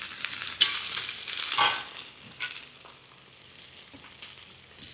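Goat boti goes into onions frying in oil, bringing a loud hissing sizzle with stirring scrapes that settles into a softer steady fry nearby.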